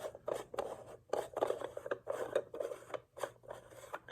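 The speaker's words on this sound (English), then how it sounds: "You just unscrew the top of the flashlight like such." Plastic threads rasp and creak in short rhythmic bursts as the top of a Ryobi P700 One+ handheld LED flashlight is twisted off by hand, quiet and close.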